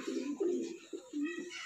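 Pigeons coo in soft, low, repeated throaty phrases as they are fed grain, close by but quiet, with faint background noise.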